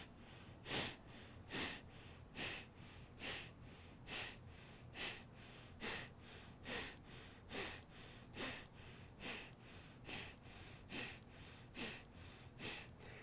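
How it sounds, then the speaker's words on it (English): Breath of fire, a rapid yogic breathing technique done only through the nose, with the belly drawn in on each exhale: a steady train of sharp, even nasal puffs, about two per second, close and clear with no talking. "This is a yogic technique of breathing where you draw the belly in on the exhale and you release it on the inhale."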